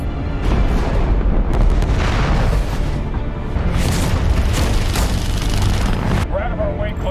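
A weapon firing in a space battle from The Expanse TV series, heavy booms and crackling blasts filling the scene densely and loudly, mixed with voices.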